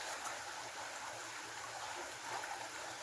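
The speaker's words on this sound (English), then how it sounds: "So the creek is really gushing." Creek water gushes steadily along its bed, a close, constant rushing hiss with a faint bubbling texture, heard alone without voices.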